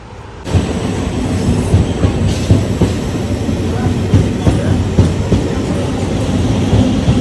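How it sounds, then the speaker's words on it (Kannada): A train rolls into a railway station with a steady, loud rumble of rail cars and faint rhythmic wheel clatter, continuing without a break after a sudden onset. "ಕಡೆಗೂ ನಮ್ಗೆ ಕರೆಕ್ಟಾಗಿರೋ ಟ್ರೈನ್ ಬಂತು ಬಂತು"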